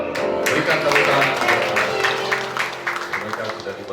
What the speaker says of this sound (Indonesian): Tuan dan Nyonya Samuel, berikan tepuk tangan.